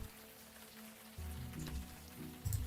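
Steady rain falling in the point-and-click adventure game Unavowed, a soft continuous patter with a few louder low swells, with no voices.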